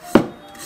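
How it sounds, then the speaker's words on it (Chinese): A single sharp knife chop through a length of scallion on a cutting board, one close, crisp thud with a short tail, then quiet. "准备一节大葱，切成小段"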